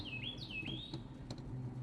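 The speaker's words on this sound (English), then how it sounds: "But I hear lots of birds." Bird calls: a few chirps and rising-falling squawks over steady background rumble, moderately faint and somewhat distant.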